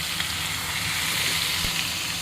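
Chicken pieces frying over a high flame in an aluminium kadai give a steady, loud, dense sizzle with a brief crackle near the end and no talking.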